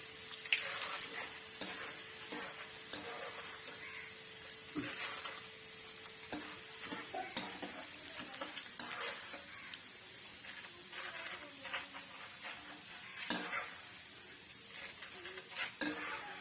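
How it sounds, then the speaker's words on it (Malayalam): Roasted split chickpeas (pottukadala) frying in hot oil, a faint, soft sizzle with occasional small clicks and scrapes of a utensil stirring in the pan, quiet and close. "നമ്മൾ പൊട്ടുകടല അങ്ങോട്ടിട്ട് എണ്ണയ്ക്കകത്തോട്ട്"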